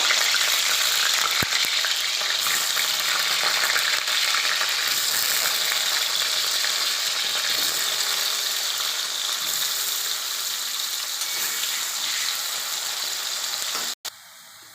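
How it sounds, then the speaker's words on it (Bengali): Potatoes, salted beforehand, fry in hot oil with a steady, dense sizzle that stays loud and even throughout, ending in a sudden brief knock and a quieter tail. "এবার আমি তেলে ভেজে নেব। আলুগুলো দিয়ে দেবো।"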